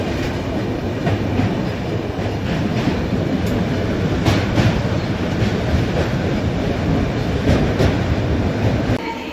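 The Rupashi Bangla Express rolls along the rails, a loud, steady roar of wheels and carriages with repeated clicking rail joints throughout and no voices.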